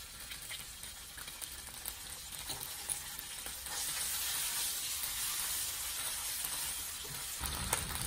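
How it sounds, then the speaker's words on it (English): Black beans stir-fry in hot oil for MaPo tofu, giving a steady bright hiss of sizzling with light stirring scrapes. The hiss grows louder partway through and there is no talking. "Now we really need to turn the heat to medium or low and stir fry the black bean a little bit."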